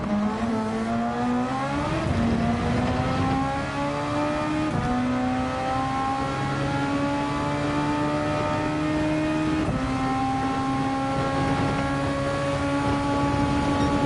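Formula 1 car engine in Gran Turismo 7, a steady high-pitched whine holding near-constant revs with brief dips around gear changes, loud and continuous with no talk.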